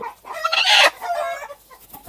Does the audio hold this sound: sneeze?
no